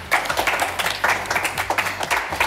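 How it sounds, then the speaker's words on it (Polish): A small group of people claps for a short burst, uneven individual claps close by, moderately loud and without talk. "wielkie brawa dla Bereniki i dla Karola"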